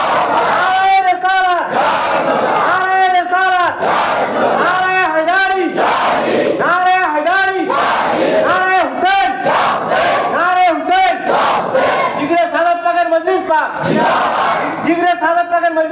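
A large crowd at a religious gathering roars the takbir response in unison again and again, a loud rhythmic call-and-answer chant with regular bursts of massed voices.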